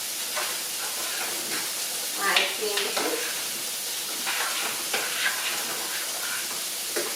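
Spoon stirring a chicken broccoli casserole mixture in a pan on the stove, a steady hissing sizzle with a few scraping strokes, close and continuous.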